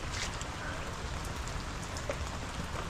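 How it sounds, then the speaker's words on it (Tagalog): Steady rain falling on surfaces outdoors, a dense continuous patter of drops throughout with no talking. "Nagpapatila lang ng mga ulan yun."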